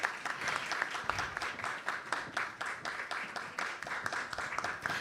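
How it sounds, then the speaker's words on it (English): An audience at an international education congress applauds guests and speakers, a steady patter of many hands clapping at moderate distance, fairly soft and continuous. "A big round of applause for our distinguished guests and speakers of today."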